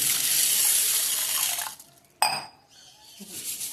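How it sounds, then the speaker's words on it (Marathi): Water splashes into a vessel of green mung beans set to soak, a steady pour that tapers off, followed by a sharp clink of a pot or glass and a brief trickle. "म्हणून मी हे आता हिरवेने भिजत ठेवते पाण्यामध्ये"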